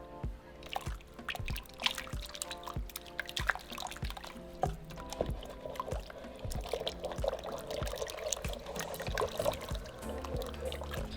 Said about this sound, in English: So now we're going to pour our maseca.